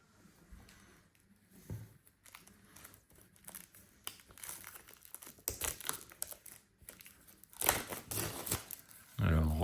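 Plastic wrap crinkles and tears as an Avengers Infinity War Blu-ray steelbook is unwrapped, with close rustling that comes in bursts and grows louder toward the end.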